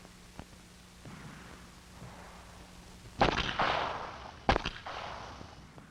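Pistol shots at an FBI training range, two loud sharp reports about a second apart with ringing decay, preceded by fainter distant pops and clicks.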